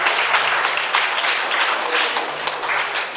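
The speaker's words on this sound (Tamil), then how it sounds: "நல்ல ஒரு பைத்த பலத்த கைத்தட்டலோடு அவரை வரவேற்கலாம்" A crowd at a seed-paddy festival event welcomes a guest with loud, close applause, many hands clapping in a thick continuous patter with a few sharper individual claps standing out.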